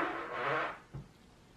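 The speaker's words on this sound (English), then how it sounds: "Fart." Fart sound from a played compilation, a breathy, raspy blast followed by a short low thump, moderately loud with no talk.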